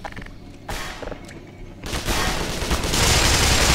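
Heavy gunfire in the video game Black Mesa, with dense overlapping bursts and thuds that grow steadily louder, building into continuous close-range fire amid sustained rumble.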